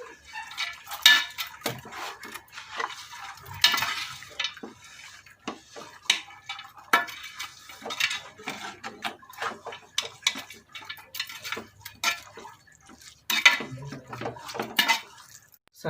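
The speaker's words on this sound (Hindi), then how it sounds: "सारी चीज़ों को अच्छी तरह से मिक्स कर लेंगे।" A spoon stirs shami kebab ingredients in a metal pot, giving repeated close scraping, clinking and ticking strokes in an irregular rhythm.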